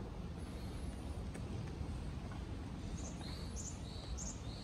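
Birds chirp in a forest beside a woodland trail, short high calls standing out faintly over steady wind noise and a low rumble, a few clustered tweets late in the clip.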